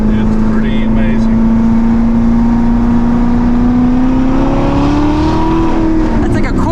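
A Corvette ZR1 engine pulls at quarter throttle on a drive, a loud steady drone rising gradually in pitch as the car accelerates, close and continuous.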